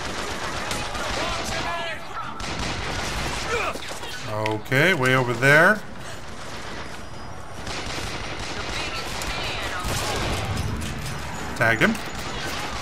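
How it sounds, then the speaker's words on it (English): Gunfire in the video game Bioshock Infinite, rapid bursts of shots running through the scene alongside other game sounds, with someone talking over part of it. "I'm gonna take out these guys that are shooting at me"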